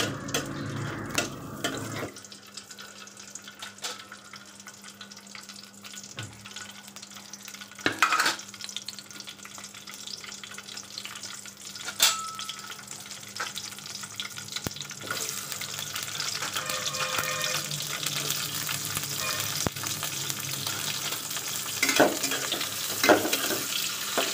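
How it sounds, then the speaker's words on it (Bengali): Onions and green chillies, added after bay leaf, cardamom and cinnamon, fry in hot oil, a steady close sizzle running throughout with occasional scrapes and stirs. "এই পেঁয়াজগুলোকে আমি এখন লাল লাল করে তেলের মধ্যে ভেজে নেব"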